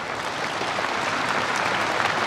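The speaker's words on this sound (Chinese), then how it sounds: "请大家把更多的掌声" An audience applauds steadily and evenly at a stage performance, a dense, sustained wash of clapping with no voices over it.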